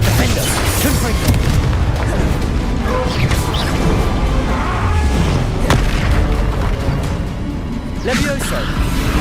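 Loud, dense blasts of a Confringo fire spell in the Hogwarts Legacy video game, booming bursts layered over continuous battle noise, with a voice talking throughout.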